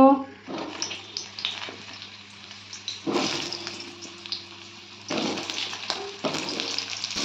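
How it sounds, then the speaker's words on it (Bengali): Potato pieces frying in hot oil in a kadai, with a steady broadband sizzle that swells in bursts as pieces go in and are stirred, close and moderately loud. "তেলটা গরম হয়ে গেছে, এর মধ্যে আমি আলুগুলো দিয়ে দেব।"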